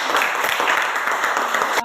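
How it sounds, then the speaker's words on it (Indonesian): Classroom students applaud a group of classmates, a dense, loud burst of clapping that fills the room and cuts off abruptly at the end. "Kita berikan tepuk tangan buat kelompok"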